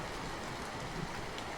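Steady rain pours down on a late night, a dense even hiss with no breaks, moderately quiet and alone with no voices, used as a backdrop in a spoken horror story.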